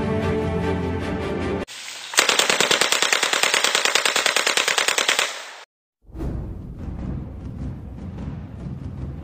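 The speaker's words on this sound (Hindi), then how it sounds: "ए भगला तो गोली मार दे" Rapid machine-gun style gunfire from a Hindi comedy short film, a dense burst of evenly spaced loud shots lasting a few seconds, framed by busy background sound before and after, with no talking.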